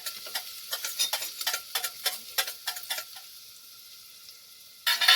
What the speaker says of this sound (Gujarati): લસણ હે ને એ ફૂટે